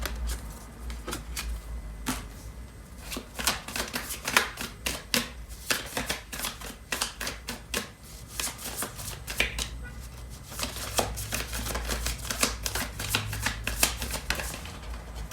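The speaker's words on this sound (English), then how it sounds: "So I'm going to pull out some cards from the tarot for this reading" Tarot cards shuffled by hand, a steady run of soft riffling slaps and flicks for the whole stretch, fairly close and moderately quiet, with no talk over it.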